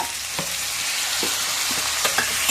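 Potatoes fry in a hot pan with a loud, continuous sizzle, and a few soft scrapes of stirring break through it up close. No one speaks.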